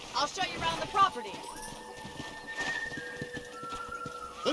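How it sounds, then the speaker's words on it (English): Horse hooves clip-clop and a horse whinnies in the video game Red Dead Redemption, with a steady hoofbeat rhythm under a faint tonal hum while people talk over it. "I picked out a fine horse for you."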